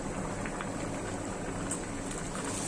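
A covered pot of biryani bubbles on the stove, giving a steady, soft, dense boiling hiss with faint popping, continuous and without talk.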